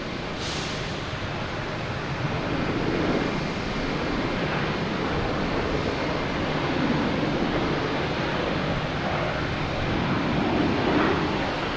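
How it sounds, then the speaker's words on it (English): An Alaska Airlines Boeing 737-900 jet arriving at Boston Logan Airport, a steady broadband engine roar and rushing air that holds loud and constant throughout, with no voices. "Alaskan Airlines coming in from Seattle, 737-900."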